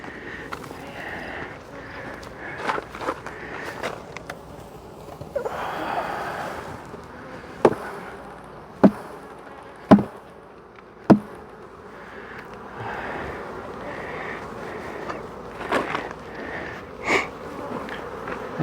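Honeybees buzz around two hive boxes in a backyard apiary, a steady close droning hum with a few sharp knocks and handling noises partway through and no speech.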